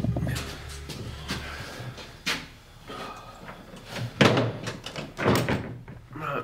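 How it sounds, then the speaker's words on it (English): A door is shut somewhere in a quiet building during a paranormal investigation, giving a soft thud amid low rustling and shuffling, with no voices. "You shut the door."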